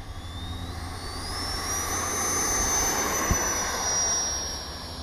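A Freewing F/A-18 RC jet taking off, with a loud, steady ducted-fan roar under a high whine that climbs in pitch and then levels off as the model gets away.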